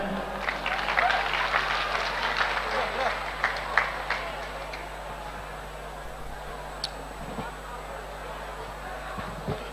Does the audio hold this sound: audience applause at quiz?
yes